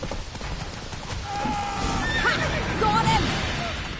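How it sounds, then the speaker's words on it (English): Horse whinnies rise over the steady clatter of galloping hooves in The Witcher 3 video game, the neighs clear and mid-distance, with voices briefly present. "Come on, Roach."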